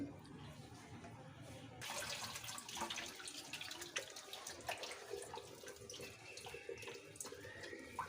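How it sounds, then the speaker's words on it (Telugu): Steady running water splashes from a tap as tuna fish pieces are washed, with faint clinks and rustling of the rinsing underneath, continuous throughout. "మంచిగా అయితే వాటర్ పోయేటట్టు ఒకసారి వడబోసుకోవాలి కడిగి"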